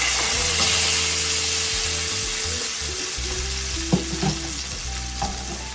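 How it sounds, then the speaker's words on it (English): Shrimp sizzle in hot butter in a pan, a loud close hiss and crackle that continues steadily, with a few light knocks and scrapes of a utensil near the end. "Alright, so now the butter is nice and hot. We're gonna go ahead and add in the shrimp."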